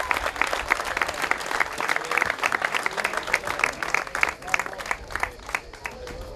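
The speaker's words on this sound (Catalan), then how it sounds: "Un fort aplaudiment." An audience applauds at a classic vehicle gathering's prize ceremony for old motorcycles at Ca n'Aguilera, with dense, steady clapping that carries loudly and evenly from start to finish.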